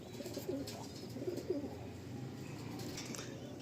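Soft, low pigeon coos repeat a few times at close range over a faint background hum; no one speaks.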